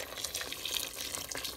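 Hot water from a kettle pours into a cooking pot in a home kitchen, a steady, splashy, bubbling stream running continuously, fairly close and alone with no speech.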